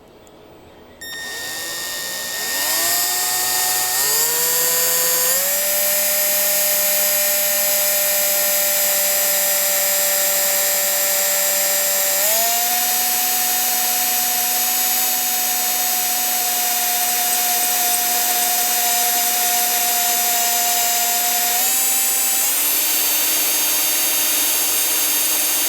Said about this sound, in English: And then we're just going to drill a nice straight hole right in there.